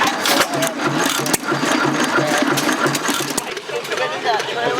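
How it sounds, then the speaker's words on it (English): An early vintage marine engine fitted with a screen cooling setup runs at a vintage engine and tractor show in Washington, giving a loud, steady rapid chugging with faint voices and crowd noise around it. "this engine here is a marine engine. It's pretty early."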